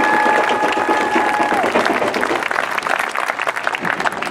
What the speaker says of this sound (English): Can we give him another round of hot applause